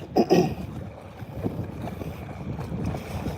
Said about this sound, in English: that wind's kicking out here, man